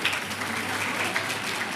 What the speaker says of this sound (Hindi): सबसे पहले तो वी द पीपल की जो टीम है उसके लिए जोरदार तालियां बजाकर स्वागत कर दो एक बार।